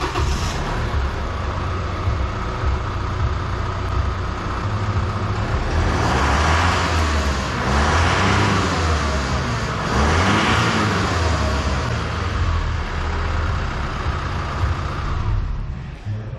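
A 2.8L Duramax diesel engine in a Chevy Colorado idles on stock factory exhaust, a steady loud low rumble with a brief swell of revving midway and no talk.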